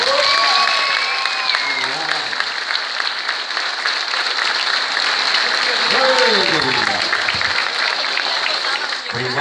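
Audience at a live comedy show in Rio Grande do Sul claps steadily for several seconds, a dense loud roll of applause with a voice speaking over it at times.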